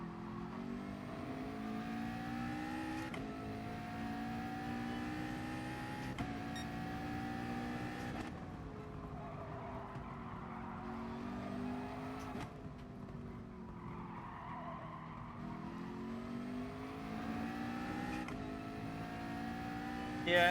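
A race car in GT Sport, on an FIA daytime warm-up, revs loudly and continuously, with its engine pitch rising through gears and dropping on shifts, plus stretches of tyre squeal through corners; no talking.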